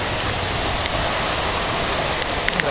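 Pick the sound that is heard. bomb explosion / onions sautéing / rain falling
rain falling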